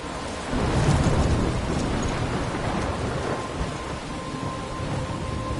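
A thunderstorm in Life is Strange, a deep rolling rumble of thunder swelling early over a dense, steady wash of heavy rain that continues loud and close throughout, with no voices.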